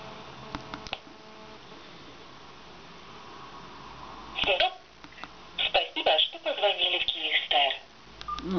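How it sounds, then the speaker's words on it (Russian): A Suppu X6 CDMA mobile phone rings on the Kyivstar network, sounding as a run of repeated electronic tone bursts in the second half, preceded by faint clicks and a soft hiss, with voices in the background. "Проверим сначала звонок на Kyivstar."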